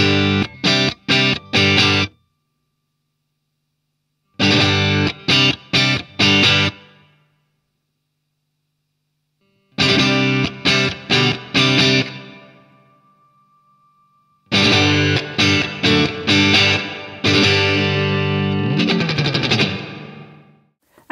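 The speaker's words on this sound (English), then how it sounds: "the most common effect found on most guitar amplifiers is a reverb" Electric guitar plays bursts of chords and strummed phrases through a solid-state amplifier's built-in digital reverb, each followed by a lingering reverberant tail ringing out into silence.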